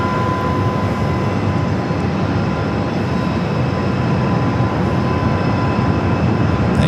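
An airliner arriving at Phoenix Sky Harbor airport gives a steady, loud, broadband engine roar that holds evenly throughout, with no talk.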